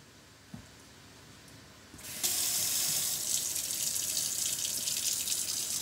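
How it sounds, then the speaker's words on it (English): A bathroom tap is turned on and water runs steadily into the sink for hand washing with soap after charcoal dust, loud and continuous after a quiet opening with a small knock. "we'll just wash my hands now with some of the soap"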